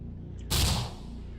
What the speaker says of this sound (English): You hear more gunshots as you fall to your knees.